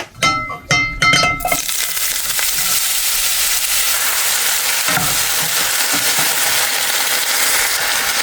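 Oyster mushrooms fry in hot oil in a pan: a few clinks and knocks open, then a loud, steady, broadband sizzle carries on unbroken for several seconds.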